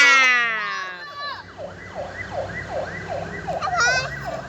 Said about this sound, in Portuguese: Tá ambulância.